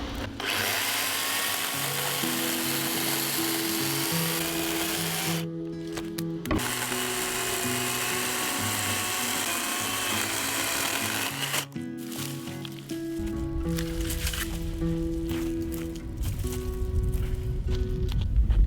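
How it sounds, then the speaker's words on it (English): A loud battery-powered electric chainsaw whines steadily close by, its pitch dipping and rising as it bites into tree wood, with brief pauses between cuts. "I'm using this battery to power this electric chainsaw so that I can cut the bigger trees"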